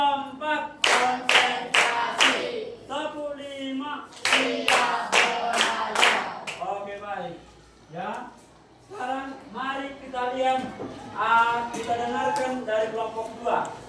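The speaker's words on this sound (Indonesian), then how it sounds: "Tepuk satu. Tepuk dua. Tepuk tiga." A school group clapping together in a counted rhythm game during a class presentation, sharp synchronized claps in bursts of one, two and three, alternating with children's chanting voices close by.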